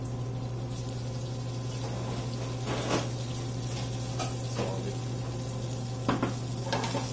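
Potato gnocchi fries in oil in a very hot pan, a steady close sizzle with occasional scrapes and clinks of stirring, under a constant low hum.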